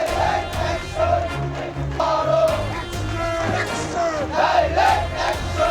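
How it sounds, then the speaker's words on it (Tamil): A large crowd of students in Bangladesh chanting protest slogans together in loud, rhythmic bursts, voices rising and falling over a continuous roar. "ஆக்ரோஷம் கொப்பளிக்கும் மாணவர்களின் கோஷம்"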